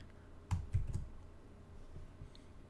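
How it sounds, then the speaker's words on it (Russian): Several keys tapped on a computer keyboard, a quick cluster of close, fairly loud clicks followed by a few fainter taps, with no voices. "можно нажать на клавиатуре сочетание клавиш Ctrl-A"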